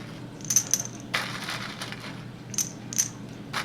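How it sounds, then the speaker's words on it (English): Hard plastic peas drop into a respirometer tube in a few clusters of sharp, bright clinks and rattles, close and clear over a quiet background hum, with no voices. "we'll add the same volume of our plastic peas, our non-germinating peas."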